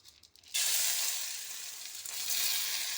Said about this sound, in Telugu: శనగపప్పు, మినపప్పు రెండు కలిపి దీంట్లో వేసేసుకోవాలి పోపులో.